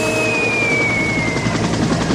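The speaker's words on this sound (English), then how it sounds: "What the hell's that? Sounds like a helicopter!" A helicopter flies overhead during a storm, a close, loud, steady rotor thumping with a whining tone, heard alone without voices.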